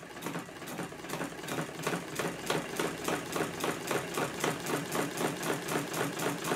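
A radial four-piston magnet engine runs steadily, its rapid mechanical clatter ticking in an even rhythm that quickens gradually as the RPM climbs, close and fairly loud with no voices.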